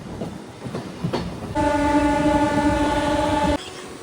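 A MEMU train's horn blasts steadily for about two seconds as it departs Kakinada, over the rumble and clatter of the moving train, close by and loud.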